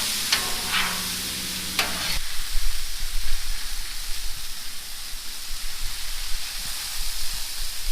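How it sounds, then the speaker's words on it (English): Chicken and vegetables sizzle on a Blackstone griddle, a steady hiss close by with a burst of scraping and stirring in the first two seconds before it settles into continuous frying. "Now I'm gonna push everything over to the low heat side of the griddle and lay them out flat"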